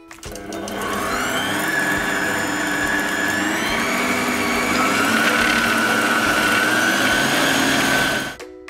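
An electric mixer whirs steadily for about eight seconds, beating orange blossom water, powdered sugar and whole eggs for bugnes dough, then spins down and stops. The motor hum is loud and close, with a slight rise and fall in pitch.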